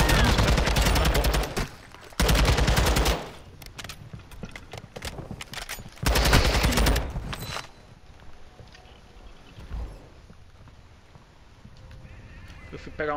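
Gunfire in a video game as players shoot at scavengers: loud, dense bursts of rapid shots come in separate volleys lasting about a second each, then give way to quieter game ambience with scattered softer sounds.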